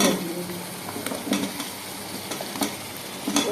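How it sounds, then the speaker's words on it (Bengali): Vegetables cooked with a little spice sizzle steadily in a pan, a constant close frying hiss broken by occasional scrapes and clinks of stirring, with no voices. "অল্প মশলা দিয়ে সবজি রান্না"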